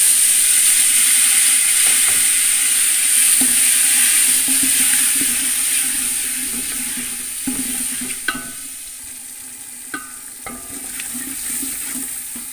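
Tomatoes and green chillies going into a frying pulao masala with turmeric, a loud steady sizzle that gradually softens, with a few sharp spoon taps and stirring scrapes near the end.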